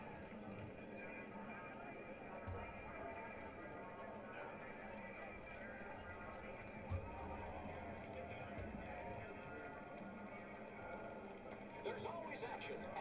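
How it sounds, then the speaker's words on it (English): Galloping hooves and horse whinnies from a virtual cloud-based horse racing video game play at a moderate level under a steady background bed, with occasional small thumps, for the whole stretch. "It's virtual cloud-based horse racing."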